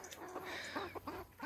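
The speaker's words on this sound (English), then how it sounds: "and we have the escaped chickens." Escaped chickens cluck in short, irregular bursts nearby, a quiet run of clucks and squawks over faint outdoor background, with no talk.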